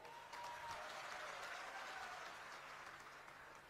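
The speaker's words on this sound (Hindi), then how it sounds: "अभी ताली बजाई है" A crowd at a Rahul Gandhi political rally applauds in sustained clapping, fairly distant and even in level, fading slightly toward the end.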